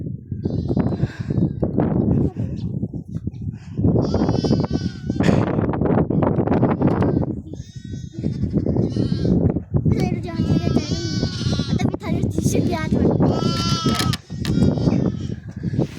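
Newborn goat kids and lambs bleat repeatedly in a pen, with several high wavering cries overlapping one another, close and loud throughout, while people talk nearby.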